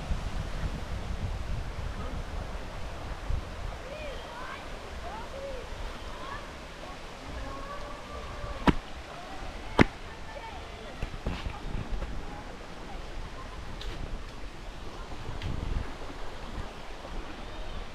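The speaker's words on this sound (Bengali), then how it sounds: "এই যে কি স্পিডেই না জলটা ঢুকছে।" Floodwater rushing in through a breach in a rural area, a broad continuous roar and wash with wind buffeting the microphone, heard close and steady while someone talks over it.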